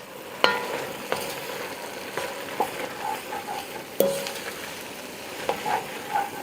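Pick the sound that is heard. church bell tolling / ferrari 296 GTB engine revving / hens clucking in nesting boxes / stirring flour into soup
stirring flour into soup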